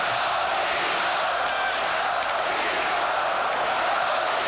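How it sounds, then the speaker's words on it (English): A hockey crowd at Maple Leaf Gardens during a 1993 playoff game between Los Angeles and Toronto, a loud, sustained roar of many voices filling the arena at an even level throughout. "And a rhythmic chant from the crowd here at the Maple Leaf Gardens"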